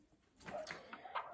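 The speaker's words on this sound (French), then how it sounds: "J'ai des chiens dans la rue qui s'amusent à gueuler." Dogs out in the street bark and yelp in a few short bursts, distant and muffled as if heard from indoors.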